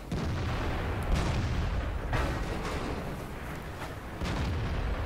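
Tank cannon fire in World of Tanks from a Leopard 1 medium tank engaging an E100, heard as a dense rumbling barrage with several heavy booms and bursts over continuous battle noise.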